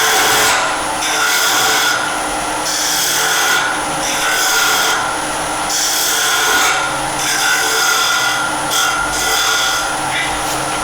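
Steady abrasive rasping of a woodturning tool shaping the base of a natural-edge wooden vase spinning on a lathe, continuous and close with brief rhythmic swells in intensity.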